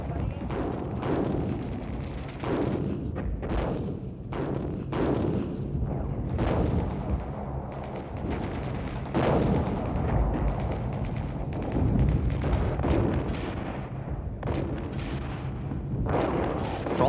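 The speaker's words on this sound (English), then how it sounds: "From the rear, Israeli artillery shelled the most stubborn Syrian strongpoints with pinpoint accuracy." Israeli artillery shelling Syrian strongpoints during the 1967 Six-Day War, a string of heavy booming blasts and thuds at irregular intervals, some overlapping, under a dense rumbling wartime din.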